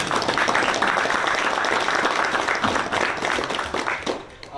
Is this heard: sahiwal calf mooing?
no